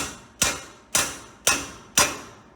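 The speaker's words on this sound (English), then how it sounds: "smack right here with our hammer and hope that upper control arm pops off" Four sharp metallic hammer strikes on the upper control arm of a 2006 Ford F150 truck, spaced evenly about half a second apart, each ringing briefly and decaying, close and loud with no talk.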